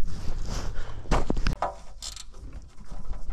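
Loosening a corroded Torx-head bolt on an engine blow-by tube: close metallic clicks and ratcheting creaks in a few short bursts over low mechanical rumble, with no voices.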